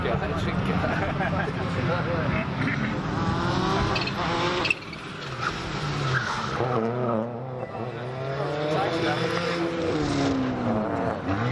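A Chevrolet Aveo rally car on a live stage at a motorsport show, engine revving and changing pitch through gear changes with some tyre scrub, fairly close, while people talk over it.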